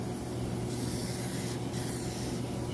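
Paint hisses steadily from a spray can onto a John Deere X300 lawn tractor in one continuous close burst with no talking.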